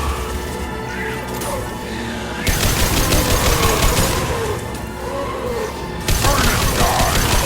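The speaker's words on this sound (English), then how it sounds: "Taking fire!" Loud automatic gunfire from a firefight in Mass Effect 2 Legendary Edition, with rapid sustained bursts that surge in intensity twice and blend with crashes and combat noise.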